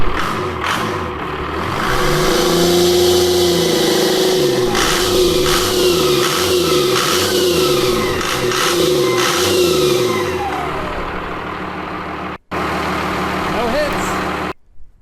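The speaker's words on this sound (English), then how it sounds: "So now I'm going to rev it up." A truck engine with a newly installed 4-inch exhaust revs hard and close, its deep roar rising and falling in repeated pulses before settling back toward an idle.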